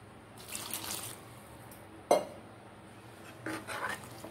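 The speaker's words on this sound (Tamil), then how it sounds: "கொஞ்சம் தண்ணி சேர்த்துக்கிடுவோம்." Water added to a pot of lentil kuzhambu, a short splash with a sharp clink of metal near the middle, and soft pouring and stirring sounds before and after it, close and quiet.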